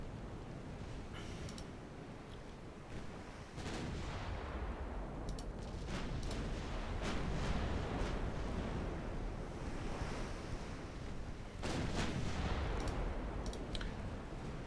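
Naval guns fire in a dreadnought-era sea battle video game, with sharp booms of salvos breaking through a steady wash of ocean surf and wind, the shots arriving in scattered clusters.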